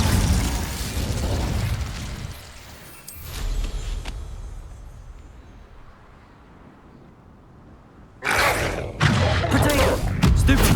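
The Incendio fire spell in the Hogwarts Legacy game on PS5 erupts in a loud whooshing burst, dies down to a low rumbling tail, then flares again in a second crackling blast near the end.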